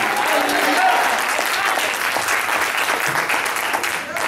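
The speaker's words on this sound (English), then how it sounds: "Clap your hands and shout." Church congregation clapping and shouting in worship, a dense, loud, continuous wash of applause with mixed voices throughout.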